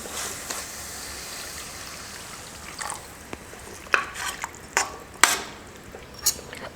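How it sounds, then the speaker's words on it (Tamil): Water poured into potato gravy in a cooking pan: a steady rushing pour at first, then a series of sharp clinks and scrapes of stirring against the metal, close-up with no voices. "உருளைக்கிழங்கை சேர்த்துட்டு லைட்டாக மிக்ஸ் பண்ணி விட்டுட்டு தண்ணி கொஞ்சம் சேர்த்துக்கிறேன்."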